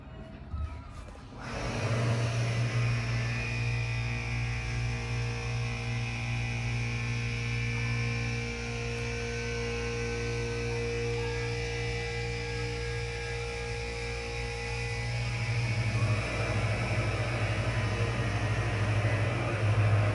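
A ThyssenKrupp impulse hydraulic elevator at a hotel in Lake Buena Vista, Florida starts up and runs with a steady low hydraulic pump hum and whine, continuous and fairly loud throughout, with no voices.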